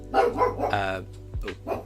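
A dog named Daruk barks several times indoors in short, harmonic yips and woofs at moderate distance, with a brief low thud between barks and no talking over them.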